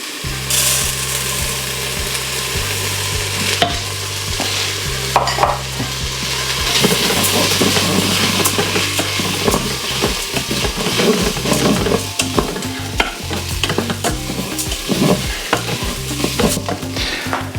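Arborio rice stirred and frying in bacon fat inside a pressure cooker pot, a continuous close sizzle with scraping spoon strokes against the pot bottom, loud and steady with no talk.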